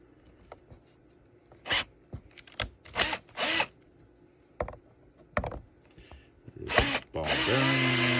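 A power drill backs out small cover screws, heard as several short, close whirring bursts separated by clicks and handling noises, ending in a longer sustained whine.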